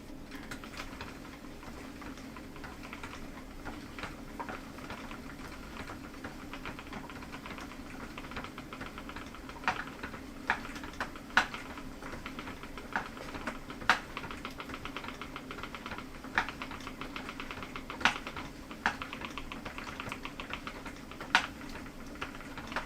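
Wool being spun on a spinning wheel with a loose, shifting part, giving faint irregular clicks and ticks over a steady low whir; the clicks get more frequent in the second half.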